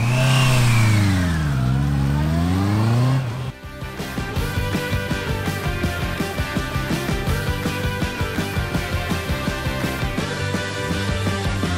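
A Honda motorcycle engine revs down and back up through a hairpin turn, then accelerates hard with a loud, steady, rapidly pulsing exhaust note, close by.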